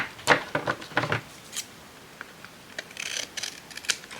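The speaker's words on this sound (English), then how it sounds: "I should really cut this end off first" Scissors snipping the end off a piece of paper during a craft project, a few quick close crisp cuts early on followed by lighter clicks and rustles.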